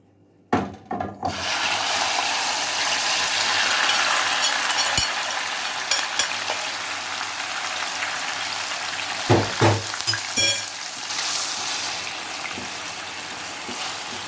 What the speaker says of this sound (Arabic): انا دلوقتي حاطه زيت يسخن، وهو فعلا سخن. انا دلوقتي هحط الكبده عليه